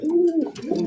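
A pigeon offered for sale coos in a low, throaty rolling call, two quick phrases close up and clear within a second, alone.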